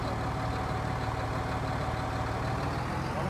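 A tractor engine idles in the video game Farming Simulator 19 on the Felsbrunn map, a steady mid-to-low mechanical hum that stays even and constant throughout.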